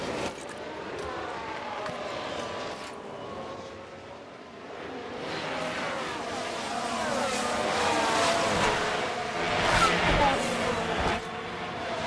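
Formula 1 race cars in the F1 Manager 2013 video game at the Austria round, a continuous engine drone that rises and swells toward the end, sounding like a fast overtake.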